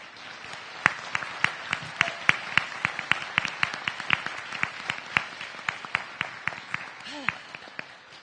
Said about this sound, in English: let's give a big round of applause for everyone